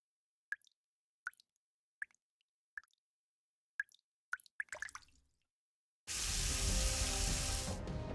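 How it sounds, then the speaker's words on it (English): Water drips from the ceiling in Goddess of Victory: Nikke, a series of distinct single plops about every half second in a quiet room, quickening into a splashing cluster before a loud broad rush takes over. "Water's coming from the ceiling!"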